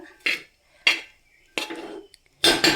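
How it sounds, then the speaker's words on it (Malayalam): A spoon scrapes and clanks against a cooking pan while masala is stirred, in four separate bursts with silence between them and no talk. "നന്നായിട്ട് ഇളക്കി കൊടുക്കുക"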